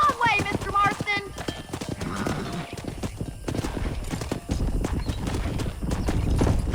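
Horse hooves clip-clop steadily at close range in Red Dead Redemption, with a neigh early on and a voice talking over the start while cattle are herded along a road.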